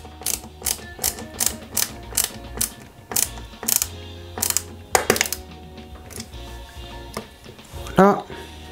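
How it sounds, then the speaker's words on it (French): A small screwdriver drives screws to fix a battery box onto a Peugeot 205 GTI 1.9 scale model car kit. It makes repeated ratcheting clicks and taps at close range, with a voice speaking over the work. "Je positionne le boîtier à piles, je le fixe avec trois vis"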